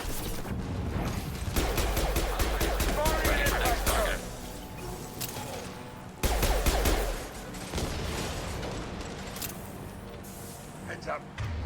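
Gunfire crackles in rapid bursts during a Mass Effect 2 firefight, with dense volleys of shots, impacts and clatter that stop, then resume after a brief break; voices talk over parts of the action.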